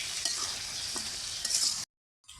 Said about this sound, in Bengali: ভালোভাবে তরকারিগুলো ভালোভাবে কষিয়ে নিতে হবে।